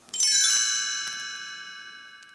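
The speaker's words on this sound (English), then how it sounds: "You will know it is time to turn the page when you hear the chimes ring like this." A single bright chime, signaling a page turn in a read-along book, rings out once and leaves clear sustained tones that slowly fade over about two seconds, alone with no talk.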